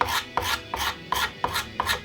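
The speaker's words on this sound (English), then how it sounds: "I'm just using a scraper," A hand scraper drags back and forth across a guitar's finish in about six quick, even rasping strokes, close and clear, with no voices.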